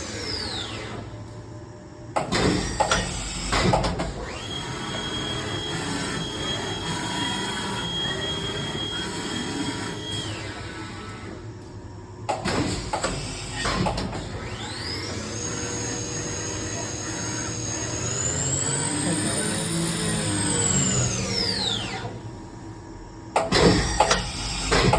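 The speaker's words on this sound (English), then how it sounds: "video inspection of the Chevalier EM2033L. It is going through a program right now." A Chevalier EM2033L vertical machining center runs a program: a sustained mechanical whine, spindle tones rising and sweeping in pitch, and sharp clunks at intervals as tool changes and moves happen. The sound is loud and close throughout.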